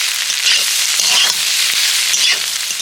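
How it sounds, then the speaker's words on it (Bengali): Egg and potato filling with green chilli frying in a pan, giving a steady, close sizzle with soft crackles throughout and no voices. "একটু হালকা করে ভেজে নেব"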